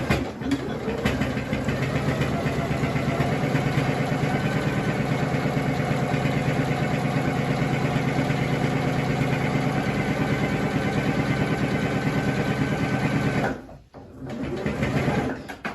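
A sewing machine stitches steadily through a fabric face mask, its motor humming in a continuous even whir for most of the time before briefly stopping and starting again.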